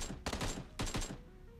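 Gunfire in the mobile battle game PUBG Mobile, two quick rapid bursts of shots close together, fairly faint and with no talking over them.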